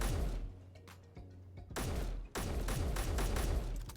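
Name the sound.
rifle magazines exploding when shot, Space Engineers video game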